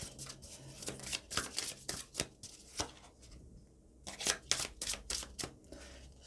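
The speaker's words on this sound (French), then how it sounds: "Je prends le temps de mélanger les cartes" A deck of tarot cards is shuffled by hand in quick, close, papery riffles and flicks, with a brief pause near the middle before the rapid shuffling resumes.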